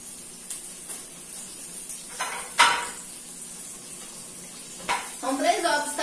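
Eggs being added to farofa in a frying pan, with a soft steady hiss under a few clinks and scrapes of a utensil against the pan and a brief louder sizzle near the end.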